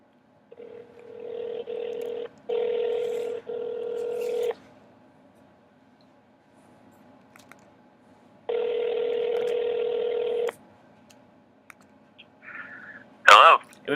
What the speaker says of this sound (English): So we're gonna get Carmen here on the phone